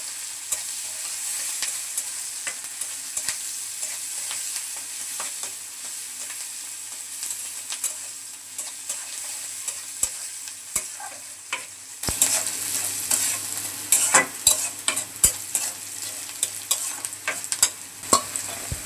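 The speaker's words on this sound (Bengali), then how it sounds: "পেঁয়াজ রসুনগুলো ভাজা হয়ে গেছে" Onion and garlic stir-fry with a little salt in a pan in a village kitchen, a soft steady sizzle broken by scraping stirs and spatula clinks that grow busier toward the end, close and without talk.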